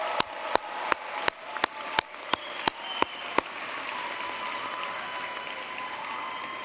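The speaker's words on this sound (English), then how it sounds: "cheer as loudly as you can" A crowd at a Georgia Tech spring commencement cheers and applauds the graduates. A string of sharp, evenly spaced claps rings out over the crowd, then the sound settles into a sustained roar of applause.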